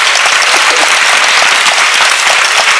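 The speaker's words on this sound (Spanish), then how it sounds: "Este enorme aplauso," A large audience at a talk on human rights and digital governance claps in a loud, dense, continuous burst of applause that fills the room steadily throughout, with no voices heard.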